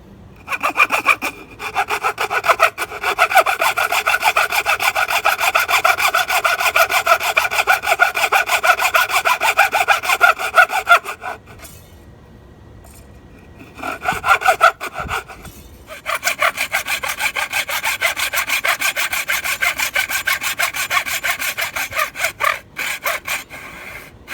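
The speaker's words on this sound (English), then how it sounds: "So I'm gonna grab my hacksaw here. Okay, we're gonna cut down to the line." A hacksaw cuts down to the line in wood for a dovetail joint, making loud, steady back-and-forth rasping strokes close by, with a brief pause midway before the sawing resumes.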